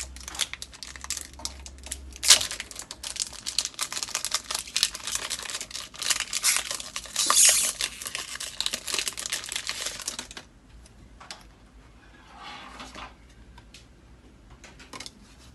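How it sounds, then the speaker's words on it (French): Pokémon card booster pack torn open by hand, a continuous loud crinkling and ripping of foil wrapper for about ten seconds, with one sharp tear near the start, then quieter rustling of cards. "Je te laisse ouvrir le premier pack."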